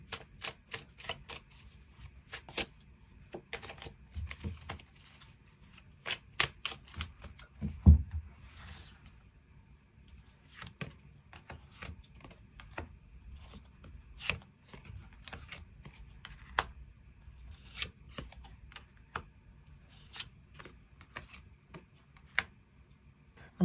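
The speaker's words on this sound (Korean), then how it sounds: "추가 카드 뽑아보도록 하겠습니다" Tarot cards are shuffled and drawn in a quiet room, a long run of soft, irregular papery taps and flicks with one brief louder thump near the middle.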